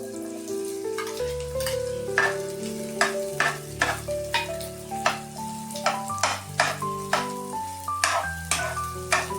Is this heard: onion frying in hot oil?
yes